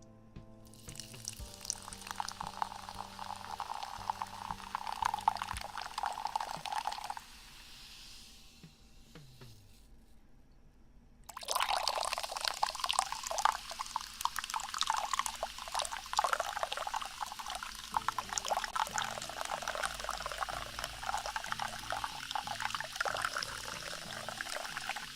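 Lemon lime sparkling water poured from a can, a steady fizzing, sizzling hiss up close that pauses briefly midway, then resumes loudly with crackling bubbles.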